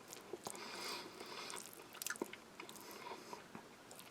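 Close, moist chewing of mixed rice and beef from a Russian army 8H Shturm combat ration, with irregular crunchy bites and squelching mastication throughout and no talk.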